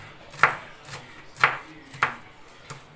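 A knife chops an onion into small wedges on a board with three or four crisp, evenly spaced strokes, close and distinct, with no talking.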